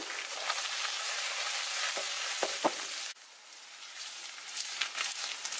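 Potato pieces fry in hot oil in a pan for potato and green bean stew, giving a steady close sizzle with a few soft scraping taps as they are turned, then a quieter, continuing crackle.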